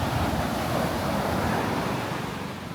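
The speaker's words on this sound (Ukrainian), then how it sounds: "Це, мабуть, сильний шторм чи що, сильні хвилі, бачите, які?" Strong sea waves surge onto a beach in Phuket, a continuous loud roar of breaking surf with wind noise over the microphone and no voices.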